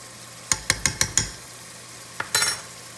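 Ground beef cooking in its own grease in a pot for New Orleans dirty rice, with a quick run of five sharp spoon taps against the pot, then a brief scrape and sizzle burst, close by and with no talk.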